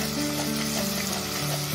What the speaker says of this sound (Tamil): இப்போ அதையும் ஒரு வதக்க வதக்கிக்கலாம்.